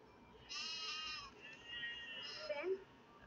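Sheep bleat in a few drawn-out calls, heading toward a road, moderately loud and fairly close, with a brief higher cry near the end.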